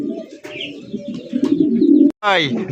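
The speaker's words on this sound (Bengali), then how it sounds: "মালটেস কবুতর দেখতেই পাচ্ছেন" Maltese pigeons coo steadily up close on a pigeon farm in low, throaty rolling calls, ending with a brief sharper chirp.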